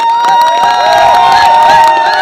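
A lively crowd cheers and shouts, with clapping mixed into the noise, loud and close throughout.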